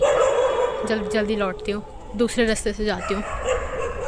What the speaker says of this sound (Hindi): मेरे को लग रहा है कुत्ता मेरे पे ही भौंक रहा है।